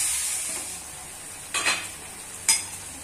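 Tomatoes cook down in a pan for paneer ghotala, a soft constant sizzle with two brief bursts of stirring, close and fairly quiet.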